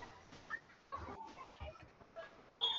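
A chicken clucks faintly in short, scattered bursts, with a brief louder squawk near the end.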